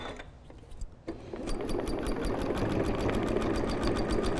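A sewing machine runs steadily while tufted material for a Christmas tree purse is brought out of it, a loud, close, continuous mechanical whir with rapid regular stitching pulses after a brief start-up.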